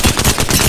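Alternator submachine gun in the video game Apex Legends fires in a rapid continuous burst, loud and close, with evenly spaced shots throughout.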